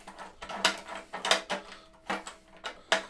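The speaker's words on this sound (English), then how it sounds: "So you can take it and you can unscrew the back of this." The back of a Journey OF660R1 travel guitar is being unscrewed: quiet, close scraping and clicking in short, irregular bursts.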